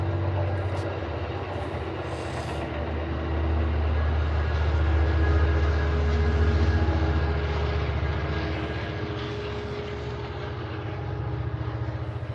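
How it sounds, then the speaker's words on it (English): A train rumbles past, a loud, steady roar that swells in the middle and slowly eases off, with no voices. "And here's the train."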